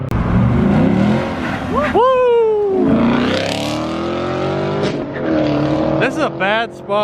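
A muscle car speeds past on leaving a car show, its engine roaring loudly with a rising howl as it accelerates and tires squeal, followed by more engine revs nearby while people talk and cheer.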